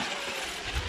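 Arrma radio-controlled car running outdoors: a continuous high, buzzing mechanical whine with ratcheting gear noise, steady and fairly close, briefly rising in intensity near the end.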